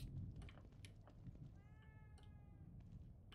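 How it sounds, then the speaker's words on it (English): A cat meows once, a short wavering cry in the middle, amid soft tapping and room noise. "Oh, I thought that was my cat."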